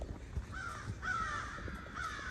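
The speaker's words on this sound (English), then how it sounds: "We got a lot of crazy birds." Crows caw repeatedly along a wide forest trail on an early-morning hike, their harsh calls carrying at moderate distance over a low outdoor rumble with no talking.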